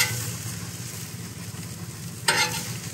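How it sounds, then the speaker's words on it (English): Onions fry with a steady sizzle on a camping griddle, close and continuous, and a brief scrape near the end as a spatula pushes them to one side. "Now we're gonna move our onions to the side"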